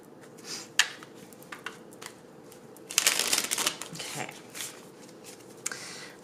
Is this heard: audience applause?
no